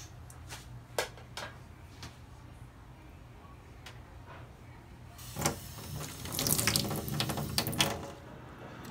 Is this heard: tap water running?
yes